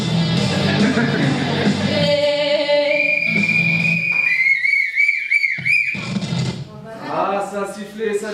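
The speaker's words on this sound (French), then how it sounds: "Ah, ça a sifflé, ça dégage." A whistle is blown during a student cabaret stage play, a long shrill tone with warbling trills that cuts through the noise of the stage, and voices shout and talk around it.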